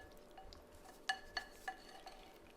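Seasoned zucchini noodles stirred in a pan, with a few light clinks of a utensil against the pan over a quiet background.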